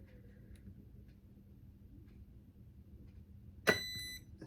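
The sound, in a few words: electronic speed controller beep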